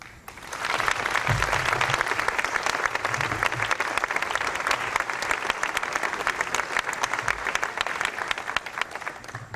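An audience at a presidential welfare reform signing applauds to welcome speaker Lily Hardin: sustained, dense clapping from a sizeable crowd, steady and loud for several seconds.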